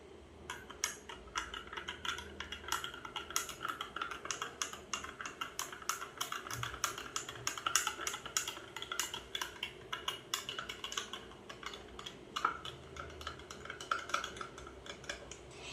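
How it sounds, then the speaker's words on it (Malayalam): A small spoon stirs fizzy soda sarbath in a glass, giving a steady run of quick, light clinks and taps against the glass for the whole stretch, close and fairly clear. "നമുക്ക് സ്പൂൺ വെച്ച് കിണ്ടാം. ചെറിയ സ്പൂൺ എടുക്കാം."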